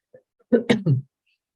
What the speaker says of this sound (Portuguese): de vez em quando eu vou dar umas tossidinhas